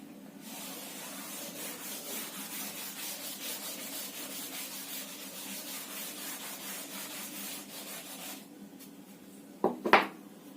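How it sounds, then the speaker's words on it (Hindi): Writing being rubbed off a board, a steady scratchy rubbing in quick repeated strokes for about eight seconds, then quiet with a couple of short knocks at the end. "इसको मैं रब कर दे रही हूँ"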